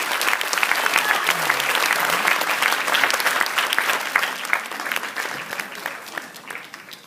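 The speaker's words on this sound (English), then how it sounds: "Turn towards the audience and applaud your families and friends" Sustained applause from a graduation ceremony audience, dense and fairly loud at first, then gradually thinning and fading, with a few voices mixed into the crowd noise.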